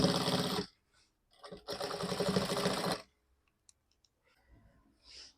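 Sewing machine stitching a baby quilt in two loud, close bursts of rapid mechanical whirring, separated by a brief pause, followed by faint clicks and soft handling sounds.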